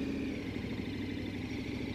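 The KTM 1290 Super Adventure motorcycle engine gives a steady, smooth mid-pitched running drone with a faint mechanical clatter and wind-like rush, with no speech.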